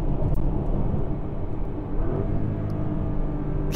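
A Porsche Cayenne Turbo GT SUV with a twin-turbocharged 4-litre V8 drones loud and steady from inside the car, a continuous low engine rumble that holds for a few seconds with slight rises in intensity.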